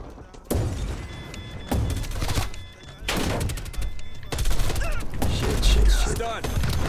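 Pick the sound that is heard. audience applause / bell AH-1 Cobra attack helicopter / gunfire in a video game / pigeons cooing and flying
gunfire in a video game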